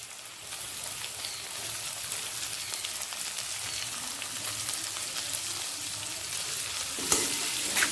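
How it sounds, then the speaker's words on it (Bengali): Chopped onion and garlic fry with potatoes in a pan for a Bengali vetki fish-bone chochchori, producing a constant crackling sizzle with scattered stirring noises and a sharp clatter near the end. "পেঁয়াজ আর রসুনটা তিরিশ সেকেন্ড মতো আলুর সাথে ভেজে নেব"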